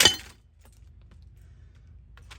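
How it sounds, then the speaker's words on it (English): A golf club strikes a vintage film camera: one sharp, clinking crash of breaking glass and metal right at the start, then a quiet low hum. "Well, it is so tough because it just broke my damn golf club."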